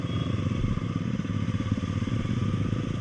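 A Suzuki Hayabusa superbike engine rumbles loudly and steadily nearby during a group Sunday ride, a continuous deep throbbing drone with no voices.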